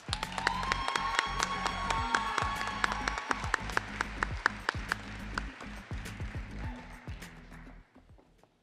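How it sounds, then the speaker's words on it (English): A large audience at the opening session of the 2024 FFA State Leadership Conference gives a scholarship recipient a big round of applause, loud sustained clapping with cheers and whoops that fades out toward the end. "Let's give our recipient one more big round of applause."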